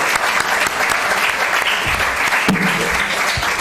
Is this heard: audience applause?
yes